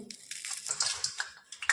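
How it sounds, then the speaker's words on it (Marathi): Crackly, irregular crisp sizzles and pops of cabbage manchurian frying in hot oil sound in quick uneven bursts at close range with no talk. "तुम्ही आवाज बघू शकता अगदी कुरकुरीत आपले मंचुरियन तयार झाले"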